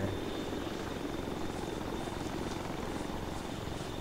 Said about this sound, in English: The helicopter's hovering over there.